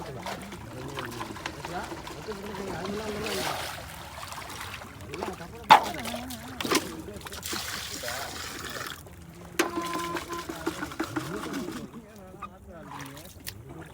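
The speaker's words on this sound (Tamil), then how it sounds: "தண்ணி வடியுது" Water drains and splashes in uneven bursts from a water bottle fish trap, with sloshing and a few sharp splashes, partly under nearby talking.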